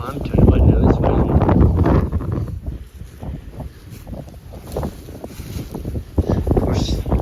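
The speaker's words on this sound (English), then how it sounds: "now this wind" Strong April wind gusting across an open farm pasture, roaring and buffeting the microphone in uneven surges, with someone talking over it.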